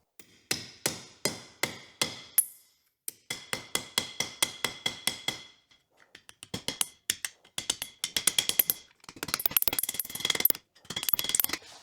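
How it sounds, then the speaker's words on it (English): Repeated sharp metallic hammer blows in quick bursts, hammering wrinkles out of a sheet metal rust patch on a VW Bus close up, with short pauses between runs of taps. "We'll attempt to hammer these out without changing the shape substantially of the piece."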